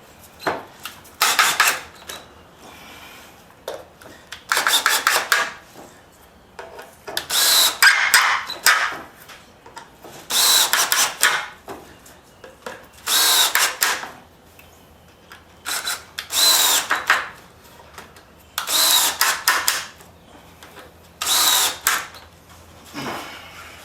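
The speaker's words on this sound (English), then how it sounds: "I'm going to screw them down." A power drill drives screws to fasten corner brackets on a wooden chicken pen, about ten loud close bursts of whirring with short quiet gaps between them and no talk.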